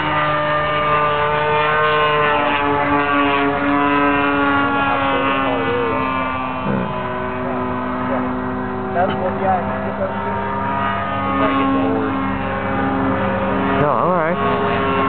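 A radio-controlled 3DHS 70-inch Slick plane powered by a DLE-30 gas engine, droning steadily overhead with a rising and falling pitch as it maneuvers, while people talk nearby throughout.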